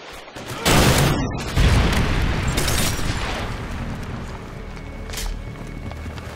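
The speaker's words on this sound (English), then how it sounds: "Predator missile incoming." A Predator missile strike in Modern Warfare 2 lands as two loud, close explosive blasts in quick succession, followed by a long rumbling, crackling decay as the debris settles.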